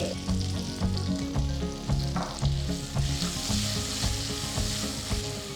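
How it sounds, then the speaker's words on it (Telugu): Steady loud sizzling of a tempering with curry leaves frying in hot oil for gongura dal, with rhythmic crackles and light stirring pulses throughout. "అవి కూడా వేస్తున్నాను తాలింపుకి"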